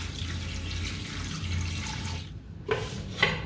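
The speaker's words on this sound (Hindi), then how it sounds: "अब पानी ऐड करेंगे।" Water streams steadily into a cooking pot of meat, spices, garlic and salt for a couple of seconds, then stops, followed by a couple of small splashes or knocks.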